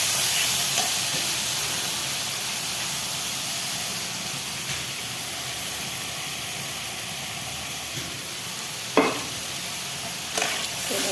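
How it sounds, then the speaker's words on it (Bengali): Spice masala paste being stir-fried in a pan before cauliflower and potato go in, a steady close sizzling hiss with a few scraping stirs of the spoon. "মশলা সুন্দরভাবে কষানো শেষ"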